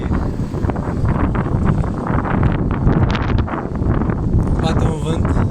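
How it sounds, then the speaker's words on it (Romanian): Strong wind buffets an outdoor microphone in a steady, broadband roar that runs unbroken throughout, loud and close with gusty swells. "Bate un vânt."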